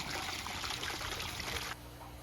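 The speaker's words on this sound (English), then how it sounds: "We've got both of them just a pumping. Water's coming out everywhere" Pumped water gushes and trickles out steadily in a close, continuous stream, then cuts off sharply near the end, leaving a quieter background.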